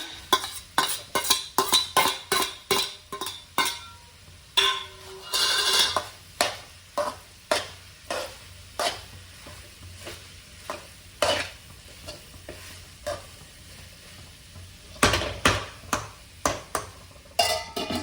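Okra stir-fry topped with grated coconut, coastal style, frying in a pan, with a rhythmic series of sharp spatula scrapes and knocks against the pan over a soft sizzle, close and clear.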